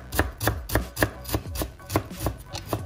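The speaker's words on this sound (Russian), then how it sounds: "И нарезаем пучок укропа мелко." Rapid, even knife chops finely cutting a bunch of dill on a cutting board, about ten crisp strikes in quick rhythm, close and clear.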